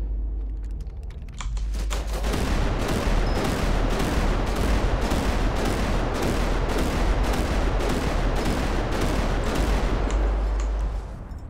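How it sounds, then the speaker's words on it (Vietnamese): A six-barrel gun fires in a video game, a long unbroken rapid rattle of shots at a fast even rhythm, loud and close, holding steady for about ten seconds before stopping. "Rồi sáu nòng bắn nữa kìa. Đạn ghê kìa."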